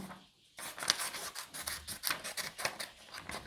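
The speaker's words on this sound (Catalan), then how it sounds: "D'acord, doncs ara retallo." Scissors snip through paper cutting a circle shape for a paper craft, a quick run of crisp, close snips in steady rhythm after a brief silent pause.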